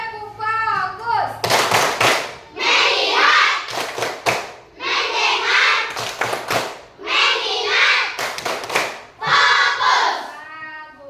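Children in a primary school classroom doing a patterned focus clap, several bursts of rhythmic group clapping, loud and close, alternating with children chanting in unison.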